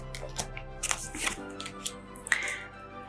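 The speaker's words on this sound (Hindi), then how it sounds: "काफ़ी देर से जी कार्ड शफल हो रहे थे।" Tarot cards shuffled by hand during a reading, giving soft, quiet riffling bursts and taps spread across a few seconds, faint over a low steady hum.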